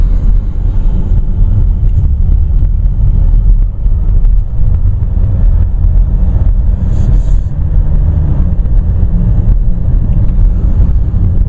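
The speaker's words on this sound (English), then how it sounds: "once you start like really punching it, it almost doesn't quite sound like a diesel engine" A loud, heavy turbo diesel engine rumble from a 2014 Chevrolet Cruze accelerating hard drones steadily from inside the car, with wind buffeting over it and no clear pauses.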